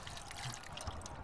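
Water pouring in the Mortal Kombat X video game, a steady close trickling splash that fills the whole short moment without speech.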